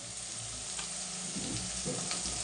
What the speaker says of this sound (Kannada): ಹಾಂ, ಇವಾಗ ಈರುಳ್ಳಿ ಎಲ್ಲ ಚೆನ್ನಾಗಿ ಫ್ರೈ ಆಗಿದೆ.